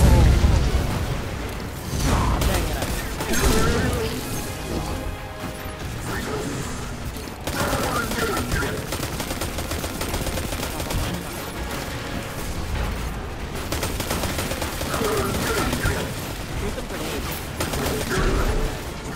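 Gunfire and explosions from the Destiny 2 opening battle: loud, dense rapid shots and booming blasts, layered with mechanical clatter and continuous noise, sustained across the whole stretch.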